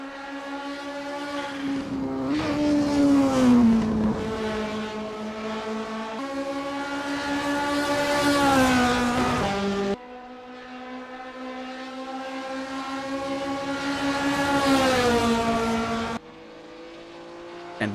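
Historic THR race car from 1975 lapping Montjuïc in Assetto Corsa, its engine droning loud and steady with rising and falling revs through repeated gear changes, no voices.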